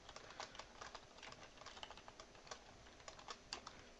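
Computer keyboard typing up close, a fast, uneven run of crisp keystrokes with short pauses, steady throughout with no voices.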